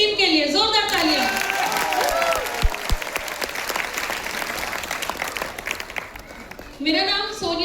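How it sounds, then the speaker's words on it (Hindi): A crowd at a business recognition event breaks into loud, sustained applause, dense clapping filling the middle of the stretch, with a voice speaking briefly at the start and again at the end. "जोरदार तालियां।"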